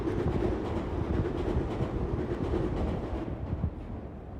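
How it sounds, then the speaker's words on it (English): A train rolls past close by, a steady loud rumble and roar with rhythmic clacking of wheels over rail joints, continuous throughout and easing slightly toward the end. "here's another train coming by."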